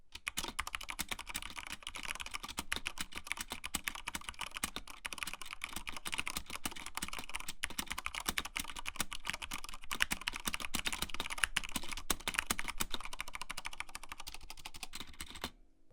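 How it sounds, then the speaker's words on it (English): Corsair K70 mk.2 mechanical keyboard with Cherry MX Speed switches and PBT keycaps being typed on continuously: a dense, fast, even clatter of close key presses that runs steadily throughout, with no voices. "here's a quick sound test of the Cherry MX speed switches with those PBT keycaps"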